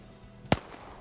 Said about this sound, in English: We heard a gunshot.